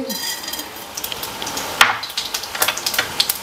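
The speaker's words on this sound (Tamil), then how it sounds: "இப்போ தாளிப்பு போட்டுக்கலாம். கடுகு" Mustard seeds sizzling in hot oil for tempering, a loud close crackle with sharp pops and a spoon scraping the pan, no talking.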